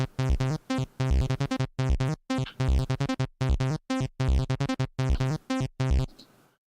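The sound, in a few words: 16-step acid-style synth sequence in Unreal Engine 4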